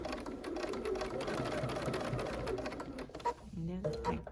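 A home sewing machine stitches fabric for a pumpkin trivet one stitch at a time, a steady close mechanical whir running throughout under an instructor's talk, then breaking into a few short start-stop bursts near the end.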